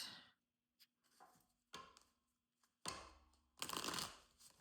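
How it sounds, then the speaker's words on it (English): Tarot cards being shuffled by hand in a quiet room: several separate riffling bursts, the last two longer and louder, with faint soft taps and brief pauses between them. "Just another couple shuffles"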